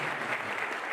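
Audience at a police basic training batch inauguration ceremony at PTS Pachmarhi claps in a dense, steady burst of applause that fills the short moment without voices.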